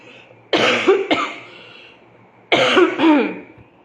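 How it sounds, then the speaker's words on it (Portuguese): A woman coughs in two short bursts, first a pair of quick rough coughs, then after a pause another harsh cough, close and fairly loud against a quiet room. "De novo, tem que tossir."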